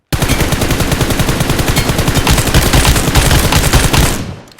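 A rapid automatic weapon in a shooter video game sprays a continuous stream of loud, evenly spaced gunshots for about four seconds before cutting off abruptly.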